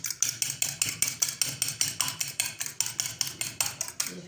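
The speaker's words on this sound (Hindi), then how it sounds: "अब ये 3 अंडे हैं, अब हम इसको ऐसे फेंट लेंगे।" Three eggs being whisked in a bowl, a quick even run of about twenty close metallic clicks and taps against the bowl, loud and alone.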